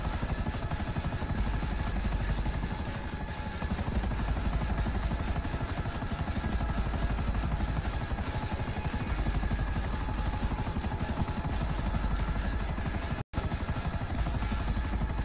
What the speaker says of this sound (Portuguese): Esse avião não era pra aparecer na missão